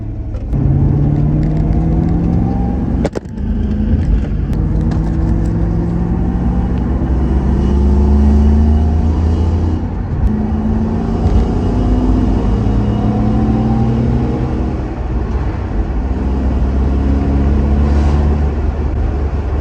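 A car engine fitted with a newly installed Eaton TVS1900 supercharger revs loudly and up close in repeated rising sweeps, with a sharp click early on.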